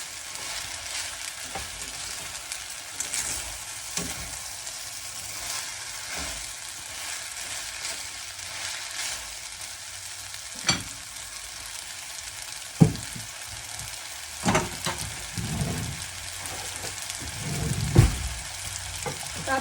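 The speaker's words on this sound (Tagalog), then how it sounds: "Ihalo na rin natin ang broccoli." Blanched broccoli is stirred into pasta in a hot pan, giving a steady close sizzle broken by irregular scraping and clanking of the utensil against the pan.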